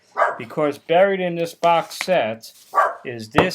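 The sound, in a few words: dog barking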